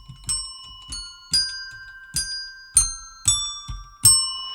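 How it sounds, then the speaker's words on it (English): A small bell rings seven times in a steady, evenly spaced rhythm, each strike bright and close with a ringing tail, clear and alone without any voices. "that little bell is ringing again"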